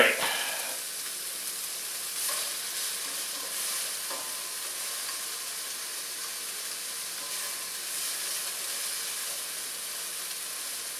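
Vegetables, with chili peppers about to go in, hiss and sizzle steadily in a hot stir-fry pan, with a sharp clatter at the start and occasional stirring scrapes, close and continuous with no talk.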